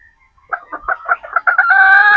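Sweater gamefowl, a 50-50 sweater cross, sounds off on a pullet farm: a close run of short, rhythmic clucking notes that swells into one loud, sustained rooster crow, with no talking.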